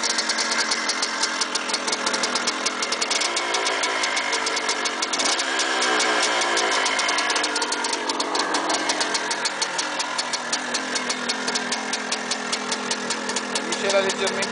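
A new two-stroke motorcycle engine idles after being kick started on the second kick, running slightly rich on oil, with a steady, even idle throughout and no pauses.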